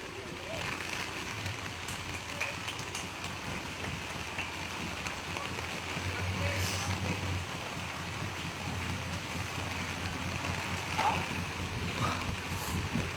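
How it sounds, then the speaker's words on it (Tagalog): Strong gusting wind rushes and roars during Typhoon Uwan, a continuous broadband wash that swells in places, mixed with what sounds like rain, and a person speaks over it. "Ang lakas ng hangin."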